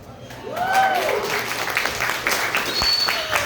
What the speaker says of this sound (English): You guys should all applaud for this.